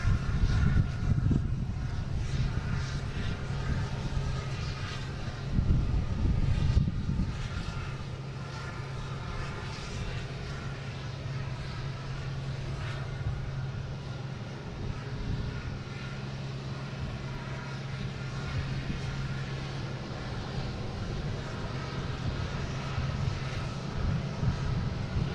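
A fixed-wing airliner on flight 1734 at Boston Logan airport roars steadily for the whole span, a broad, sustained engine rumble and whine at moderate distance with no talk.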